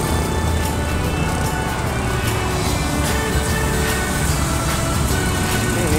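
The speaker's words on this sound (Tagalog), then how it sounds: "Medyo matraffic na ang Davao City ngayon." Dense city street traffic in Davao City, a steady continuous roar of cars and other vehicles nearby with no pauses, no talking over it.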